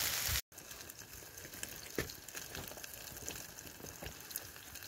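Food frying on a Bitty Big Q foldable, retractable grill over a wild campfire in Scotland gives a steady, faint sizzle with soft crackles and pops, after a brief cut near the start.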